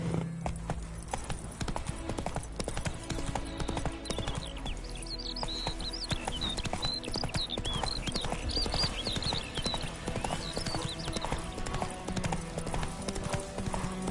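Roach, a horse in The Witcher 3, gallops with a quick, steady run of clip-clopping hoofbeats close by, broken by a brief whinny and faint game ambience.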